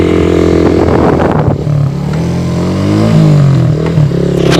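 Satria motorcycle engine revving hard as it climbs a steep, slanted road near Puncak Mandeh, with rising and falling pitch as the throttle changes, loud and close, with no talk over it.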